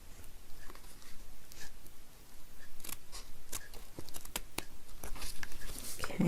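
Scissors snip off a small piece of material in a winter garden, several close, crisp clicks and cuts scattered over a soft rustling background.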